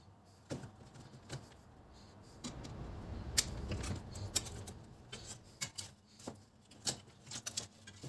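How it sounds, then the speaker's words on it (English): Faint, close clicks, scrapes and small metallic taps while a screwdriver removes the four corner screws from an ATX power supply circuit board, irregular handling noises with no talk. "we can proceed with removing the 4 screws at the corners of the board"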